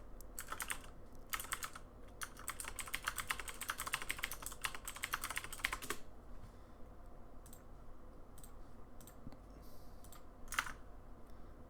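Fingers type on a computer keyboard in quick bursts of faint, close keystrokes, dense at first and then thinning to scattered taps after a pause.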